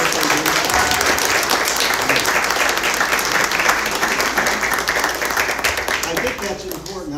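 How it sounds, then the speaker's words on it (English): A crowd at a high school art show awards event breaks into strong, sustained applause that fills the room, with voices talking through the clapping before it thins out at the end. "Can we give them an outstanding applause?"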